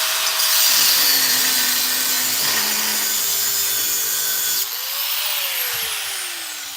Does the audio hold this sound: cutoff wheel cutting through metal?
yes